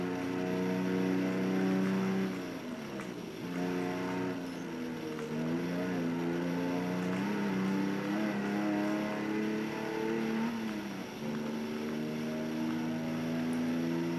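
A Mercedes-Benz 300 SL Gullwing driving in Test Drive Unlimited 2, its engine droning steadily with a smooth tone that rises and falls through gear changes, loud and continuous throughout.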